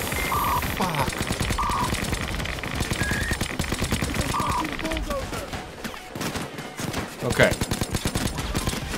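Constant heavy gunfire during a Payday 2 safehouse raid, rapid automatic bursts and shots layered with game effects and a brief alarm-like tone, while players talk over the action.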